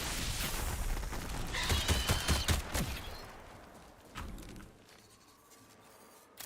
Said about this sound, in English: Gonna use some common-ass pistols to kill the boss here